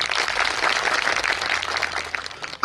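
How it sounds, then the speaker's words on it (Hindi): Dense, steady applause from a large audience at an outdoor political rally in Saurashtra, Gujarat, a continuous wash of clapping lasting a few seconds without a break. "इनके लिए तालियां बजाओ एक बार।"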